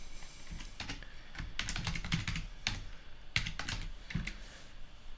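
A computer keyboard is typed on in quick irregular bursts of close clicky keystrokes, with short pauses between groups.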